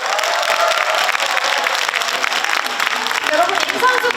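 An audience at a Democratic Party political rally in Jeonbuk, South Korea, bursts into loud, continuous applause mixed with cheers, with voices rising over the clapping.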